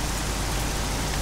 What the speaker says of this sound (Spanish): Puta lluvia, odio la lluvia.